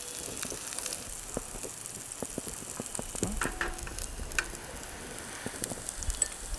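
Vegetables for tomato pasta frying in a pan outdoors, a steady soft sizzle with scattered small pops and crackles running throughout, fairly quiet and close with no voices.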